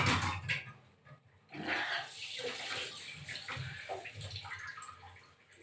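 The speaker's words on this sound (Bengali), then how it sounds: "এটা হাত দিয়ে হাত ধুয়ে নিই" Hands are washed under running water in a kitchen while cooking shrimp, with splashing and rubbing sounds that come and go unevenly.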